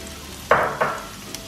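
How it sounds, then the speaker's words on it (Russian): Chopped onion sautéing in oil in a pan, with two bursts of bright sizzling as it is stirred, each fading into a softer steady fry. "И в течение 2-3 минут пассируем луковицу в масле"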